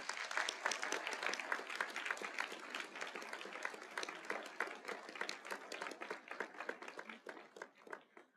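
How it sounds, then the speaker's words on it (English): Audience applause at a college commencement ceremony, sustained clapping from a large crowd, fairly distant and even, gradually tailing off at the end. "one more round of applause for this well-deserved honor"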